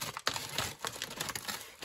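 Scissors cut open a stapled paper takeaway bag from a Chinese restaurant, giving short crisp snips and papery crinkles close to the microphone, with no voices.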